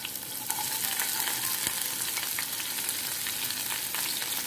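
Green chilies and capsicum fry in hot oil with a steady bright sizzle, while a utensil stirs and scrapes the pan in occasional soft clicks, close and continuous with no talking.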